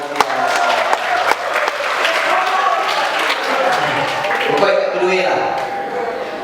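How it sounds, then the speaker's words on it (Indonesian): A classroom of vocational school students claps, steady and lively, while a voice talks over the clapping. "Tepuk tangan dulu."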